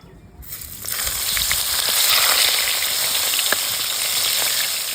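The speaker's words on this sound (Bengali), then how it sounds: "ওদিকে চিংড়িগুলো ভাজা হতে থাক" Large freshwater prawns rubbed with turmeric and salt fry in hot oil in a pan for a malai curry, a steady loud close sizzle that bursts in after a brief quiet start and holds with faint crackles.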